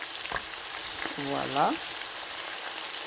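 Onions sizzle as they fry in a pan with garlic, a constant close crackle under one short spoken word, with a brief stirring swell midway.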